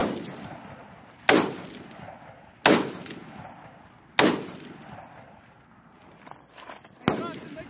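Automatic gunfire rings out during Marine live-fire training at a range, four sharp loud reports spaced over a few seconds, each trailing into a long echoing decay outdoors.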